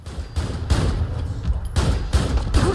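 Rapid bursts of gunfire from shooting in the video game Fallout: London, loud repeated volleys in quick succession with no talk over them.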